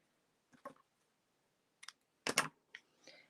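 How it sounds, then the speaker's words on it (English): A larger piece of linen thread is snipped for an autumn card project, heard as a few faint, quick scissor clicks and snaps spaced apart, close and quiet with no voices. "I'm just going to kind of cut myself a larger piece here."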